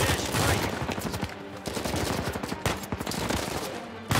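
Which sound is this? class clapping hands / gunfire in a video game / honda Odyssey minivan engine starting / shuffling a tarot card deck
gunfire in a video game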